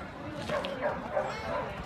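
A rural puppy yips and whimpers in short, close, high cries amid a group of dogs, with people talking alongside.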